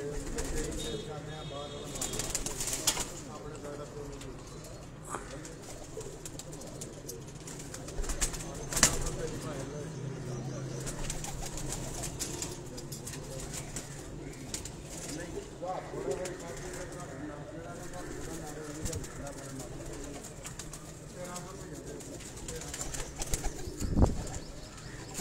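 Teddy pigeons at a rooftop breeder's loft coo softly and intermittently beneath near-constant conversation, with occasional brief rustles that may be wingbeats, all faint and somewhat distant.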